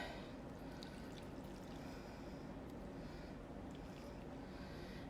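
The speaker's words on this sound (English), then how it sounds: "And then pour it over the top." Disinfectant solution pours over paper towels packed in a container for homemade wipes, a steady soft liquid trickle and splash running continuously throughout with no talking.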